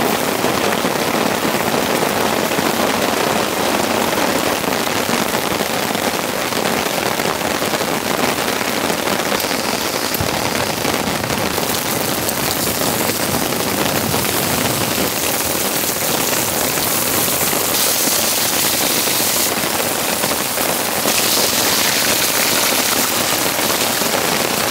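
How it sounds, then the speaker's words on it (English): Heavy rain pours down on a tent at a campsite during a rainstorm, a dense, loud, steady hiss of drops pattering on the fabric without pause, with no voices. "This is some super intense rain."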